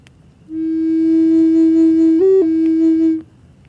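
Steady, loud bass flute tone played from the right side during a soundbath meditation, one sustained note held about three seconds with a brief pitch step near the end, alone.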